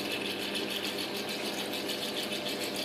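A pump or processing machine running its wash cycle after priming, giving a steady, continuous mechanical hum and rattle with no pauses or voices.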